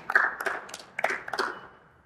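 Several people clap hands at the close of an FC Flora strength-training session, a short, fairly quiet burst of scattered claps that fades out after about a second and a half.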